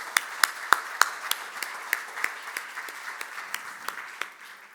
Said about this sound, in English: let's give a warm round of applause to Manvi.